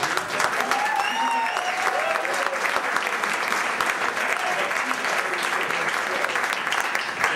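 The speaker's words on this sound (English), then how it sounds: "you were clapping because you wanted it to be over or not" Audience at a small live music venue applauding steadily after a jazz quartet's set, dense sustained clapping with a few faint voices mixed in.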